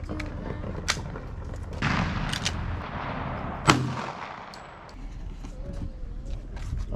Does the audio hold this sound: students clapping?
no